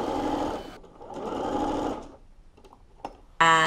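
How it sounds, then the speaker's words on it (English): A sewing machine runs a long gather stitch around the top of a sleeve in two sustained whirring bursts. Then come a few quiet clicks and a brief voice at the very end. "I'm going to put in my gather stitch"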